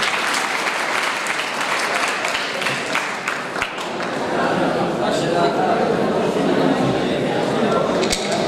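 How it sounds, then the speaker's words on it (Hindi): Students at a college welcome party break into loud, sustained applause and cheering, a dense wash of clapping that fills the room throughout, with a voice speaking over it. "उनके जोरदार क्लैप करें"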